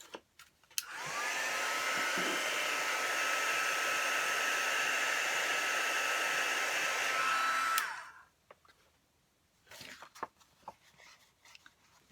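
A hair dryer blows on painted calendar art in a steady, loud whoosh for about seven seconds, then cuts off. A few faint handling taps follow in the quiet.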